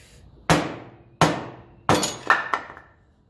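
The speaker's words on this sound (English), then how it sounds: "There's only so much whacking you can do." Metal tool strikes hit a tight nut on a 1954 Ferguson TEF 20 diesel tractor, five sharp, ringing blows close by, spaced unevenly with quick decays between them.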